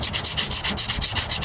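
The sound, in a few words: spreading Bondo filler on Ford Ranger tailgate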